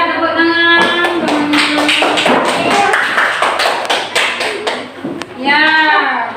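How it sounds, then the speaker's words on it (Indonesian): A school class clapping hands, a run of quick, close taps and claps that starts after a teacher's voice and mixes with children's voices and some thumps. "Ya, tepuk tangan."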